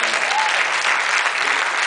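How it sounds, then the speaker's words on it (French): A short, dense burst of audience applause at a Paris city hall commemoration, loud and continuous throughout with no pause. "vous pouvez l'applaudir."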